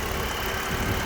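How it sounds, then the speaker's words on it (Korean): A used car's engine idles under the open hood, a continuous even rumble that is steady and fairly loud with no other sounds. "엔진 소리가 어떤지 안 좋은 차는 소리가 이상하게 큽니다"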